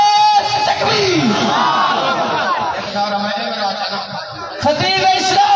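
Crowd at an annual religious gathering at Jamia Abdullah bin Masood roaring back in response to a takbir slogan call, a loud massed shout from many voices mixed with a leader's amplified call.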